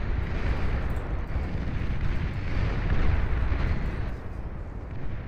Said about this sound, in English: Didn't expect that explosion to rock my build power so menacingly, but it absolutely did